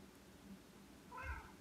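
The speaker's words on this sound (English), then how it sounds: "Don't put your feet in the pool, Kitty" A faint, short cat meow rises briefly over a quiet background hum.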